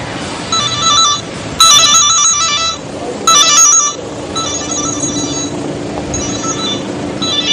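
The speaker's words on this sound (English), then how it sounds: "So I'm going to get my colleague to call me and have it ringing" A Sonim XP3 rugged mobile phone rings with an incoming call, a loud repeating electronic ringtone in bursts with brief pauses, steady throughout.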